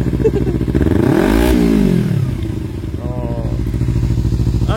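A Kawasaki Z250 Special Edition motorcycle engine revs up and falls back, a close, loud twin-cylinder rasp with a clear pitch sweep, then settles into a steady idle as a voice murmurs briefly.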